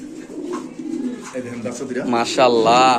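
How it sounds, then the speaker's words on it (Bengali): Racing pigeons coo in low, throaty bursts close by, the calls growing louder and more layered toward the end over a busy background. "এখানে আছে এক পিস কবুতর"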